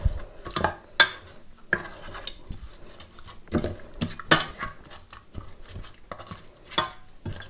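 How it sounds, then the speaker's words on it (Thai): Fish and seasonings stirred in a cooking pot for a Lao-style dish of tilapia with dill, giving repeated scraping clinks and knocks of a utensil against the pot in an uneven rhythm, close and fairly loud, with no talk. "ต่อไปเอาไปคนจักหน่อยนะคะ คนนิดๆหน่อยๆกับพ่อค่ะ"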